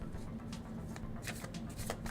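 Journey Oracle deck cards being shuffled by hand, a run of quick riffling flutters and soft snaps in close succession, near and fairly quiet over a faint low hum.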